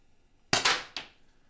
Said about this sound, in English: So we're going to fire the left barrel right now